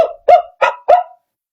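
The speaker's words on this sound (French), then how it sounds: "Regarde, les vrais chiens aboient comme ça." A dog barks four times in quick succession, loud and close, each bark short and sharp, with silence after the last.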